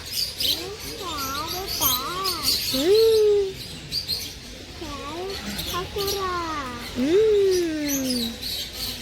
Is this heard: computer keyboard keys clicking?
no